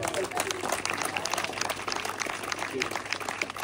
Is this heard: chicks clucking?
no